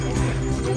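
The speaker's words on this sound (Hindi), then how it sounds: "घोड़े गाड़े भी आ रहे हैं।" Horses clip-clop along the Yamunotri pilgrimage trek in the Himalayas, giving a brief burst of close hoof knocks over a steady outdoor background.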